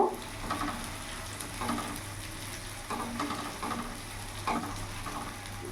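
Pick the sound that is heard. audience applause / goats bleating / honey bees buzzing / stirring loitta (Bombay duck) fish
stirring loitta (Bombay duck) fish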